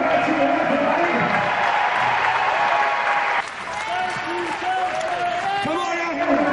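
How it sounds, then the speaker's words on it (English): Crowd applause at a wrestling show for wrestler Nigel McGuinness, dense sustained clapping with some cheering, loud and steady, dipping slightly partway through, with a voice faintly underneath. "I'd just like you to give Nigel one more round of applause for the match he had tonight"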